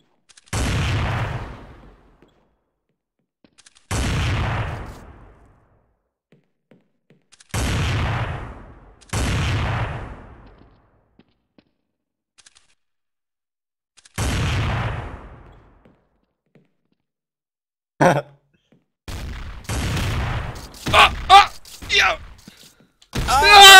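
Gunshots in Counter-Strike: Classic Offensive, five booming shots spaced a few seconds apart, each ringing out and decaying, followed by a burst of quicker, sharper shots and clatter near the end.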